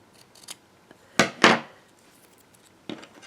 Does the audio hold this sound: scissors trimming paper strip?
yes